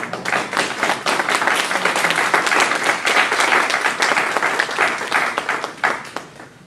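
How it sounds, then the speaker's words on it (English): An audience at a human rights commission panel on immigration reform applauds the working group, dense and loud sustained clapping from a crowd filling the room for several seconds. "just so we can give you a round of applause"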